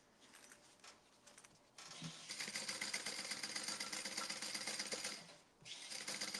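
A sewing machine bastes a waist pack, stitching quietly at first. It then runs in a fast, steady whirring burst, pauses briefly and starts stitching again close to the microphone.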